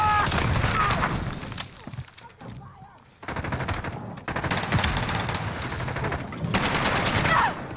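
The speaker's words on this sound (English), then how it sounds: "Oh, he tried to rocket launch." Heavy gunfire and explosive blasts in a Call of Duty: Modern Warfare match, with a rocket launcher in play. Dense, loud bursts of shots come in waves, with a short lull in the middle, and faint voice chatter mixed in.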